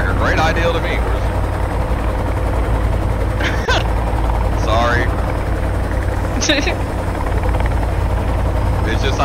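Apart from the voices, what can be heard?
helicopter flying in the video game Sons of the Forest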